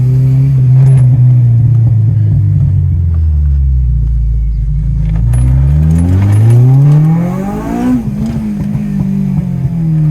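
Honda Civic Type R EP3, a naturally aspirated car tuned to 250 bhp, pulls hard on the road, its engine note climbing and falling through revs in a loud, continuous drone heard from inside the cabin.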